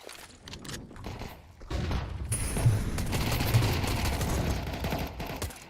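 USP pistols fire in a Counter-Strike match, giving rapid, close bursts of gunfire layered over a dense, continuous clatter of game noise, with no voice in the foreground.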